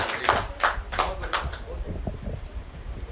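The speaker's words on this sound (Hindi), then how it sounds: "बहुत अच्छे, तालियां।" A short burst of clapping from a small group at a talk on freedom from ritual and superstition, several quick sharp claps at first and then softer scattered ones over a murmur of room noise.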